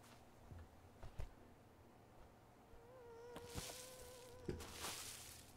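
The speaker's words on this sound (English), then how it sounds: "the sound of mosquitoes is horrifying" A faint, thin mosquito buzz in the video game Survival: Fountain of Youth drones steadily at low volume, with a few soft clicks and rustles scattered through it.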